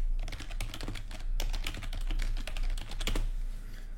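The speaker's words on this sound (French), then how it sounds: "je vais taper un peu de texte" Rapid, close clicking of keys on a computer keyboard as text is typed in a Windows document, an irregular patter of keystrokes with brief pauses and no speech.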